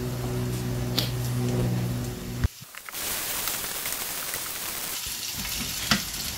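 Pork for adobo with string beans toasting in a hot pan, a bright crackling sizzle that briefly cuts out and resumes, with a few sharp clinks from stirring, close and steady.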